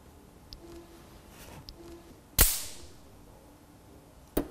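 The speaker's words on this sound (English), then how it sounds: "That's your automotive fuse blowing." An automotive fuse blows with one sharp, loud crack midway and another short pop near the end, preceded by faint clicks and a quiet background.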